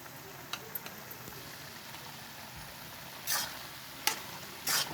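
Egg halwa frying in ghee in a pan, with a faint steady sizzle and a few quick scraping stirs, quiet and close, no talking.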